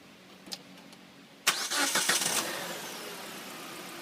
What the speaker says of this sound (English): And I'm going to start the engine.